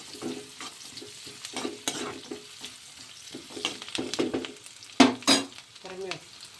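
Curry leaves and onion frying in a pan for chitranna, giving intermittent crackling spatters and stirring scrapes nearby, with a sharper burst of sizzle near the end; the sounds are fairly quiet and uneven.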